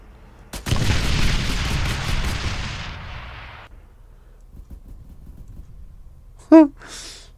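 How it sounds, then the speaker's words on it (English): Tank cannon fire in the video game Arma III: a sharp blast followed by a long rumbling roar that fades over several seconds, then quieter distant thuds, with a brief voice near the end. "Such explosions, and yeah, I'm not hitting anything."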